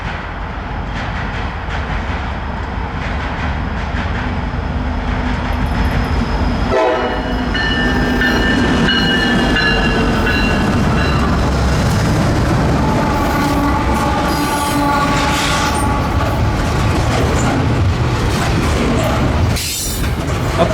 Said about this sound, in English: a daily westbound intermodal train between Ayer, Massachusetts and Chicago, Illinois